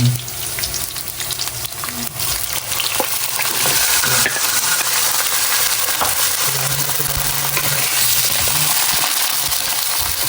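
Pork sizzles and crackles loudly in a hot pan, with occasional scraping and stirring sounds.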